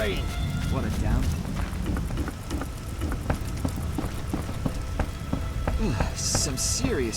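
Rain in The Witcher video game patters and hisses steadily, with sharp drip sounds scattered through and a few brief higher splashes near the end.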